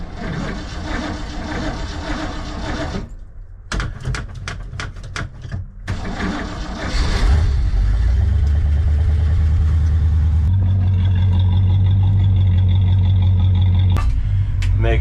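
A Ford 390 big block V8, low on fuel, cranks and catches, then settles into a loud, deep, rumbling idle with a throaty low-end roar that holds steady close to the mic.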